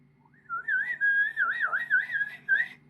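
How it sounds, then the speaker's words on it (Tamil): A character whistles a wavering, warbling tune in a Tamil voiceover story, a clear, fairly loud run of bending pitched notes with short breaks that lasts about two and a half seconds, with no talk over it. "எதுக்கு இந்த நாய் விசில் அடிக்குது?"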